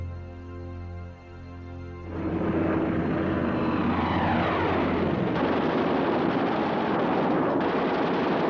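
Propeller aircraft engines of World War II Stuka dive bombers and Messerschmitt fighters over Poland: a steady tonal drone gives way to a loud, dense, continuous roar of many engines, with no talking.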